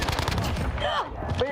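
Rapid bursts of automatic gunfire in the Call of Duty Warzone battle royale video game, loud and dense across the whole moment, with game sound effects layered over the shooting.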